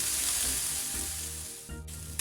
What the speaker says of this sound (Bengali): এবার ছেড়ে দিচ্ছি তেলের মধ্যে।